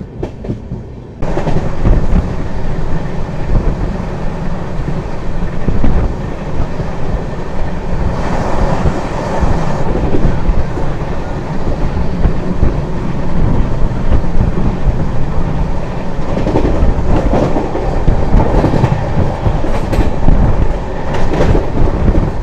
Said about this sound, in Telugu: ట్రైన్ ఏమో కాకినాడ నుంచి తిరుపతి వెళ్తుందండి